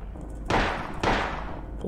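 Two sharp, loud gunshots from an enemy in the Silent Hill video game, about half a second apart, each with a short decaying tail and no talk over them.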